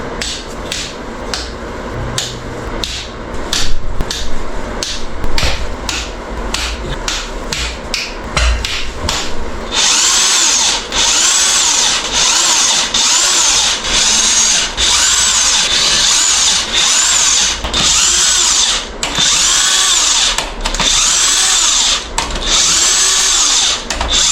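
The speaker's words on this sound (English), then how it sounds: "let's start pulling off the main caps and the main cap bolts and cross bolts" Power tool loosening main cap bolts and cross bolts during a teardown of a Ford second-generation 3.5 EcoBoost engine, loud continuous buzzing and rattling impact bursts, close up, growing harsher and steadier in the second half.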